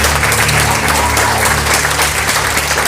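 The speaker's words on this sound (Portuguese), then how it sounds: "Aplauda agora todo poderoso" A church congregation applauding together, a loud continuous roar of many hands clapping with a low steady hum beneath and no speech over it.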